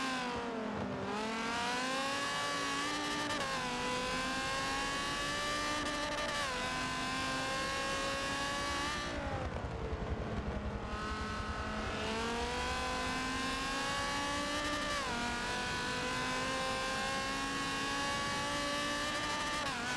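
Race cars at Brands Hatch in Forza 7 produce a constant loud engine roar. The pitch rises through upshifts and drops as they brake for corners, with a brief lull in the middle before the revving resumes.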